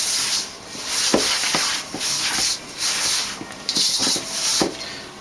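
Homemade bread dough being mixed by hand in a bowl, heard as soft rubbing and scraping strokes that come in uneven repeated bursts, close and moderately loud, with no talking.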